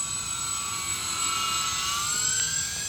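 An RC UMX C-130 model airplane flying with full flaps, a steady high electric whine that rises slightly in pitch toward the end, heard at moderate distance with no talk.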